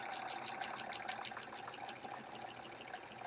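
A sewing machine quilts bulky, heavy fabric blocks. It runs as a steady, fast mechanical patter with rapid needle ticks throughout at a moderate, even level, and no voice is heard.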